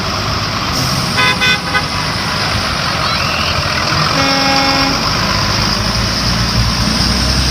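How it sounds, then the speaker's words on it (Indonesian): A school bus honking on a road, with repeated tooting horn blasts over engine and traffic noise close by, one burst early and a longer one midway. "Selanjutnya, wah, ini ada bus sekolah."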